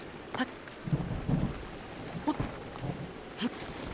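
Rain patters steadily in the video game The Legend of Zelda: Breath of the Wild while low thunder rumbles come and go in short swells.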